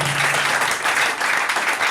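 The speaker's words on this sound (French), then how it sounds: "Applaudissons le Seigneur pour cela" A church congregation applauding at the opening of a missionary center, a thick, continuous wash of many hands clapping close by, sustained through the whole moment.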